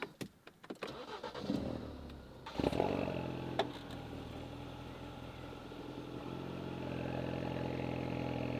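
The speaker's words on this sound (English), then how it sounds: "let's start the engine" A Ford Focus RS engine cranks and catches, then settles into a steady, rumbling idle that grows slightly louder toward the end.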